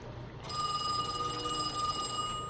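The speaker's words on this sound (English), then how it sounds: "this one over here rings." A telephone bell rings after being called through a step switch, one bright sustained metallic ring starting abruptly and continuing at moderate loudness to the end.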